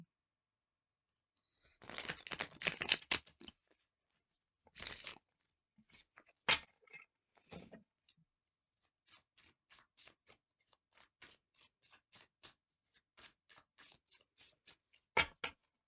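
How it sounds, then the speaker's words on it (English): Tarot cards are shuffled in quick riffling bursts, then handled with a run of soft, irregular taps and slides, close up with no talking. "So I am shuffling these cards in a way where there will be reversals"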